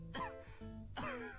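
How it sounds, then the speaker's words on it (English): A game character in Tokimeki Memorial Girls Side coughs twice in quick succession, short rough throat-clearing bursts, quiet and isolated. "he just keeps coughing"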